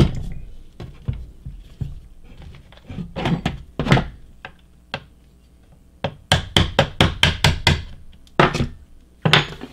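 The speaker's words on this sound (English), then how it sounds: "because it's brand new and super tight, does require a punch and hammer." Sharp metallic hammer strikes on a punch driving out the tight rear pin of a brand-new Grand Power Stribog, irregular taps at first, then a rapid burst of about ten loud, close blows, then a few more.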